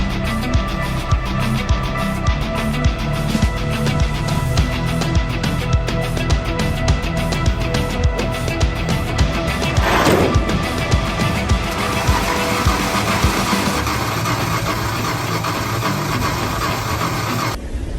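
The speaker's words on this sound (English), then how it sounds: "I want to see if the motor will at least run to get it into the shop" An old Dodge D100 shortbox pickup's motor being started, with loud, close, continuous engine noise holding steady for the whole stretch and no voices over it.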